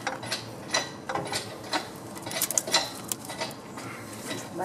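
A hand pump being worked a couple of times during a head gasket and ARP stud job on a 6.5 turbo diesel, giving faint, irregular mechanical clicks and ratcheting strokes in a quiet shop.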